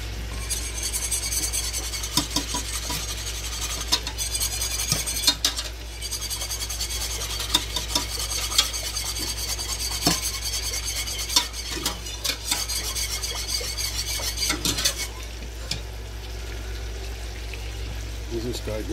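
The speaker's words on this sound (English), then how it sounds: "Then we just keep whisking that until it boils and then it's done." A mixture for a beef-themed birthday cake being whisked in a pot until it boils: continuous close rasping, scraping strokes with occasional louder knocks, over a low steady hum.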